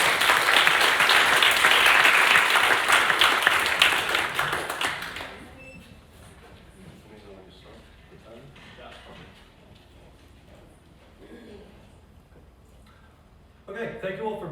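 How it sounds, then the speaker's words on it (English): A debate audience bursts into loud applause for a contestant, dense clapping for about five seconds before fading out, followed by quiet room sounds and a brief return of noise near the end. "Give a round of applause, please, to Thomas Hatsis."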